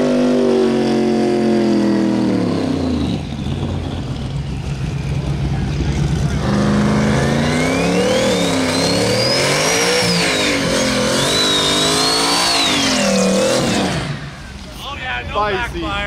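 A drag race car at a Christmas Tree Drag Race world championship accelerates down the track, its engine note climbing and wavering loudly through repeated revs before fading near the end, with voices talking over it.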